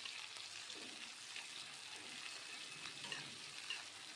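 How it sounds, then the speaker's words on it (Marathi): Onions sauté in a pan until pink, giving a faint, steady sizzle with soft stirring scrapes, quiet and continuous with no talking. "कांद्याला करपवायचं नाही आहे, पण गुलाबी होईपर्यंत त्याला छान असं भाजून घ्यायचं आहे"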